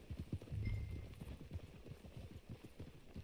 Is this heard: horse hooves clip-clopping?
yes